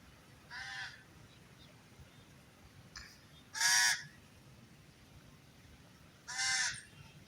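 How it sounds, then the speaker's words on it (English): Three loud, harsh crow caws ring out one at a time, spaced a few seconds apart, over a quiet outdoor background. "Guys, there are crows everywhere."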